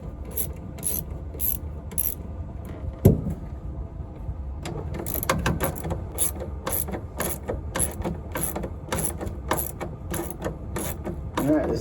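A ratchet wrench clicks in rapid bursts while removing 3/8-head bolts from the heater box of a 1955 Buick Special. Scraping and handling noises come first, then a long run of regular, close ratcheting strokes.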